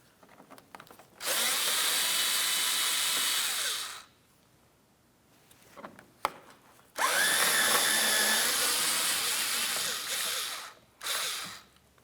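A power tool whirs under the front corner of a 2007-2014 Ford Edge, removing mounting bolts near the fog lamp and fender liner: two long loud sustained runs with a short pause between, then a brief final burst.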